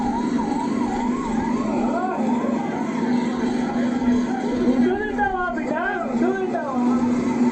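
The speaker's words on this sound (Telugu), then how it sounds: "సిద్ధం సభ కోసం వచ్చిన జరిగినటువంటి ట్రాఫిక్లో అంబులెన్స్ ఇరుక్కుపోయింది" An ambulance stuck in traffic near a political rally sounds a continuous wailing siren, rising and falling in steady cycles at close range amid crowd and traffic noise, with someone talking over it.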